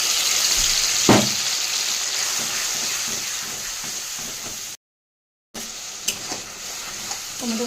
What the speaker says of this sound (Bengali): টমেটোর পেস্টটা একটু ভেজে নিচ্ছি তেলটা ছাড়া অবধি।